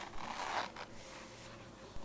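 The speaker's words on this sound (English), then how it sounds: "Next, unzip the zipper" A quick pull opens a zipper sewn into a fabric pouch, up close, a short burst of scratchy sliding followed by quiet rustle and a small click near the end.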